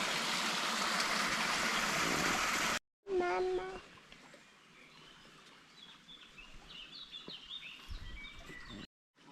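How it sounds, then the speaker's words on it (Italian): Waterfall on the Gorgazzo stream along the Gor trail near Polcenigo: a loud, steady rush of falling water fills the first few seconds, then gives way to a quieter outdoor scene with birds chirping and people talking. "Adesso vi mostriamo la cascata."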